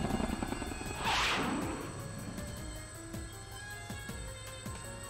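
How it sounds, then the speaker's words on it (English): A helicopter in the video game Persona 4 Arena Ultimax gives a steady droning hum with a swelling whoosh early on, followed by quieter descending whistles, all fairly soft and without voices. "As soon as Kikuno shouts, the helicopter makes a sharp turn and we're all thrown to the side"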